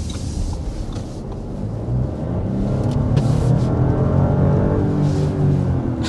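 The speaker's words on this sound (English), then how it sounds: "we're going to go ahead and start with a hard acceleration" A 2024 Audi Q7 SUV pulls hard under acceleration, a continuous engine and road roar that swells slightly as it builds, heard from inside without talk.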